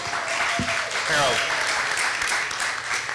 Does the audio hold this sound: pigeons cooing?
no